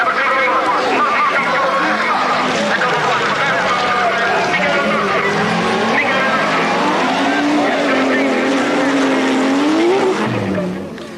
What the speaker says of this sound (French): Schanke, Ole Arneson et Michael Nordström s'élancent à l'assaut du premier virage